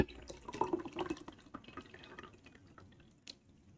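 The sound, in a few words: water being poured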